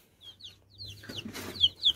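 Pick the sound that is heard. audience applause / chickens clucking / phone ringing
chickens clucking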